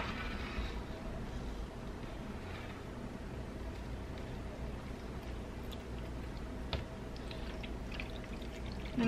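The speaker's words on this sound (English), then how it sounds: "Okay, I'm gonna pour the water." Water poured onto rice dyed yellow, green and blue for a toddler sensory activity, a steady, fairly quiet pour running continuously for several seconds with no talking.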